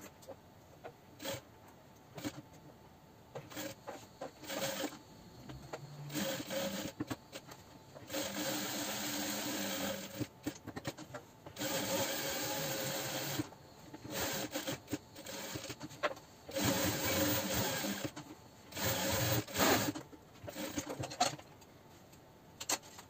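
A sewing machine stitches fabric with white thread while making a school folder cover, running in several bursts of steady mechanical whirring separated by short pauses.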